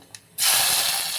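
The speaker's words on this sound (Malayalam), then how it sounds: "കടുക് പൊട്ടുമ്പോൾ" Mustard seeds hit hot coconut oil in a pan, starting a sudden loud, dense hiss of frying and spattering after a brief quiet moment.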